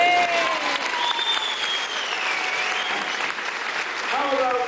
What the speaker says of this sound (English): How about a great big, massive round of applause for a great chef, give him a big clap